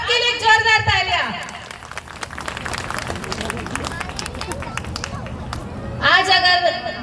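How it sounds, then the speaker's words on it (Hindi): An audience at a motivational talk breaks into loud, dense applause lasting several seconds, with a speaker's voice just before and after it. "आपके लिए जोरदार तालियां।"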